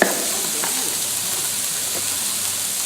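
Celery and onions sizzle in a hot pan with a steady, bright hiss, following a brief clatter at the start, with no talking.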